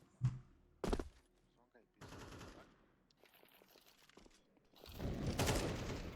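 Sharp bursts of gunfire in Counter-Strike 2 on the Vertigo map: two quick loud shots near the start, then a longer rattling volley and a loud final burst, separated by quieter gaps.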